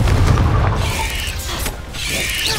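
A Confringo explosion spell in Hogwarts Legacy sets off a loud, deep boom that rumbles on with crackling debris and brief squealing magical effects.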